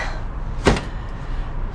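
A small locked bomb shelter door in Kyiv, Ukraine is tried, giving one sharp close rattling knock midway through a quiet outdoor stretch.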